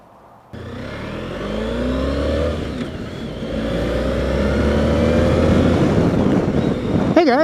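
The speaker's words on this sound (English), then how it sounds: "I am taking a company vehicle. And in this case, it just happens to be a Honda ST1300" A Honda ST1300 motorcycle engine starts up loud and close, idles, then revs and pulls away with a rising drone that keeps building through the run.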